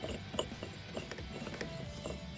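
Milwaukee Hole Dozer hole saw being threaded onto its arbor by hand, giving quiet rapid ratcheting clicks and small metallic ticks that stop as it locks in place, faint and close.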